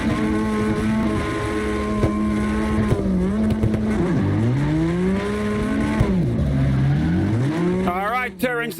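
Several drifting cars run in close three-car tandem in the CarX Drift Racing online game, their engine notes rising and falling together with sliding tire noise, loud and continuous while people talk over it.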